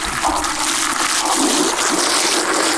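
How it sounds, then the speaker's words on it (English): Water gushes from a metal garden hose with no nozzle into a bucket, a loud, steady, continuous rushing splash throughout with no talking. "I'm going to see how long it takes the metal garden hose to fill it up with no nozzle on the end."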